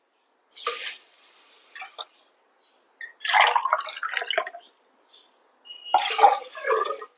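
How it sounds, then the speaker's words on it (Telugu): Three glasses of water poured onto broken ragi grits in a vessel in three separate splashy bursts, close by, with short silences between each pour. "దీంతో 3 గ్లాసులు నీళ్లు పోసుకుందాం"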